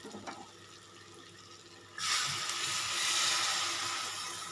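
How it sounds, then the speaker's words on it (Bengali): Water gushes into a pot of chicken korma after a quiet start. The rushing pour begins suddenly at the midpoint and stays loud and steady to the end. "আমি এবার পরিমাণ মতো জল দিয়ে চিকেনটা সিদ্ধ করে নেব"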